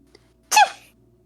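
A woman sneezes once: a single sharp, close burst with a brief airy tail, set against a quiet room.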